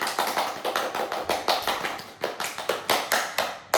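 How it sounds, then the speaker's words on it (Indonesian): Clapping in a classroom for a student during a writing lesson: a small group claps in a distinct, fairly rhythmic series of sharp claps, close and clear, with no talk. "Oke, tepuk tangan untuk Andi Siti Mensara Triputri."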